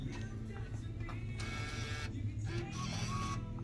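A vending machine dispenses from its single dollar lane with a steady, close mechanical whirring and motor hum that runs throughout, with a few brief shifts in pitch and no voices.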